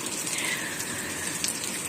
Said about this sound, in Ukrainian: Сьогодні 18 липня і в нас йде дощ.